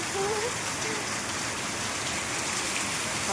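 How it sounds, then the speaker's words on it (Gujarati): Heavy rain pours down in a constant hiss, close and even throughout. "અમે તો અહીંયા વરસાદ જોઈ રહ્યા છીએ વરસાદની મજા લઈ રહ્યા છીએ"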